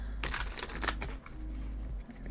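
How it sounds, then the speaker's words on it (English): A large tarot deck is shuffled by hand in a short burst of close, crisp riffling and flapping cards over a steady low background hum. "One more shuffle and then we're going to get started."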